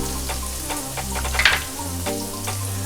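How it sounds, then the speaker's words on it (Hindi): Spices sizzle and fry in a pan while masala for beef pasanday is cooked with garlic paste, red chilli powder, coriander powder and salt; a steady close sizzle runs throughout with brief stirring scrapes and clinks. "मसालों को अच्छी तरह से भून लेंगे।"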